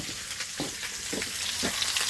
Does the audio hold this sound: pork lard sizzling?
yes